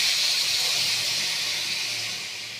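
Hot water pours into a pan of basmati rice, a steady close hissing rush that slowly fades as the pour ends, with no voices.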